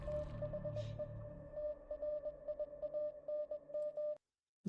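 Steady tone around 700 Hz keyed in short pulses like Morse code, from a horror game trailer, running evenly for about four seconds before a sudden cut to silence.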